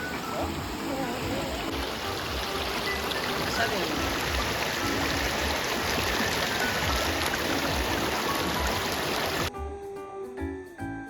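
Steady, loud broadband rush of a monsoon waterfall and river at Amboli in the Konkan, continuous and close for most of the span before cutting to a quieter, different scene near the end.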